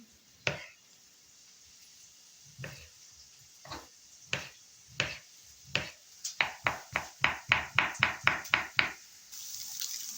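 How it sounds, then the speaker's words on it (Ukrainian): Knife strikes on a cutting board while dicing beetroot into small cubes: a few spaced chops, then a quick steady run of about a dozen sharp chops, close and fairly loud. "Бурячок наріжу маленькими кубиками."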